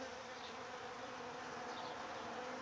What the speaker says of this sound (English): That way, if you can see the bees coming and going?